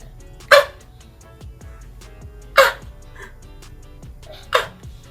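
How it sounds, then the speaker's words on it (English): A dog barks three times, each a single sharp, loud bark about two seconds apart, close by, with quiet room sound between. "Hey, you want to bark at me? Let's see if you'll bark."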